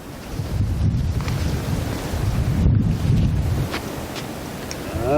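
Strong gusting wind roars across an exposed volcano mining site in Indonesia, a loud, continuous low buffeting that swells and eases over several seconds with no voices.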